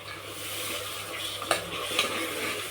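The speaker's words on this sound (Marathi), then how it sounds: "मस्त उसळ परतून घेऊ" Usal of peas and peanuts sautéing in hot oil in a pan: a soft, continuous sizzle under a few stirring scrapes and light metallic taps, close by, with no talking.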